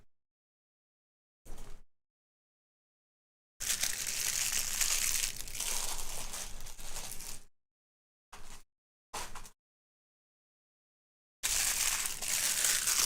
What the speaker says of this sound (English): ASMR, crinkly, crinkly.